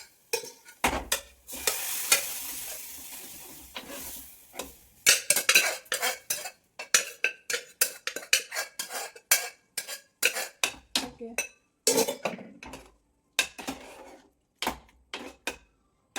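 Chili powder being stirred and roasted in a pan while cooking a lunch dish, with a rapid series of sharp scraping and clinking strokes of a utensil against the metal, close and fairly loud, over a soft sizzle and no talking.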